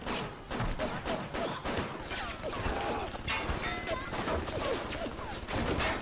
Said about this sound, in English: My gun's working!